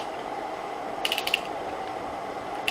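A ratchet wrench clicks in short bursts of a few quick pawl ticks, close and crisp, while snugging a spark plug into a B18 Integra engine over a soft steady background.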